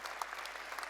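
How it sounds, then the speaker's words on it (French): Applause from an audience at a town council's New Year greetings ceremony in Le Cannet, honouring the municipal council members: a brief, fairly faint patter of clapping from a crowd. "vous pouvez les applaudir aussi."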